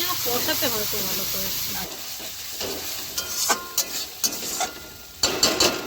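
Onion and ginger paste frying in oil in a pan, with a steady sizzle and hiss under a voice and background chatter early on, then intermittent scraping stirs and clinks of a spoon against the pan.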